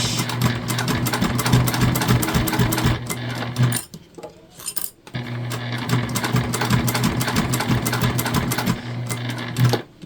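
A sewing machine top stitches a vinyl bag, running loud and steady up close in two long bursts separated by a short pause.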